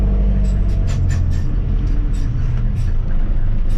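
Inside an Otokar M2000 Magirus bus with air brakes, a loud, constant engine drone fills the cabin while short, sharp hissing puffs from the air system break in repeatedly over it.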